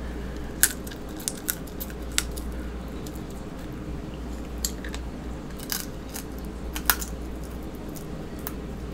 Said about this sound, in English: I know I have scissors sitting over there.